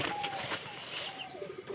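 Pigeons cooing among a flock of pigeons in a loft during breeding season, with soft low coos repeating over a steady background of other birds at moderate distance.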